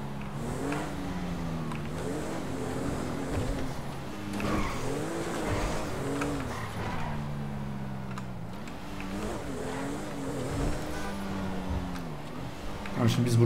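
A Mercedes S500 AMG drives in Grand Theft Auto 5, its engine a steady droning hum that rises and falls with revving, heard at moderate level beneath someone talking.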